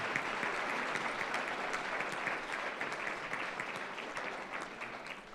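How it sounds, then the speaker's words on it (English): Steady applause from a crowd at a school winter sports awards ceremony, many hands clapping in a dense, even patter that holds for several seconds and eases slightly toward the end. "Can I have one more round of applause for our OVAC competition team?"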